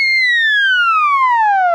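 A theremin slides downward in one continuous siren-like glide across octaves, a loud, pure, steady tone with no other sounds.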